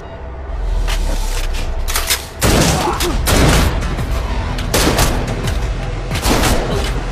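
Gunfire in a tense film scene: loud, close bursts of rapid shots fill the clip, with a brief lull before the shooting resumes more intensely.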